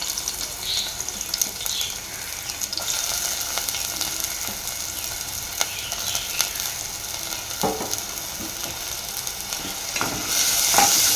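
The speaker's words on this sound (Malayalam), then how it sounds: "ചെറുള്ളി നന്നായി നമുക്ക് വഴറ്റിയെടുക്കാം." Chopped shallots sauté in hot coconut oil in a pan, a steady close hiss of frying with scattered spatula scrapes and taps, rising briefly near the end; no one speaks.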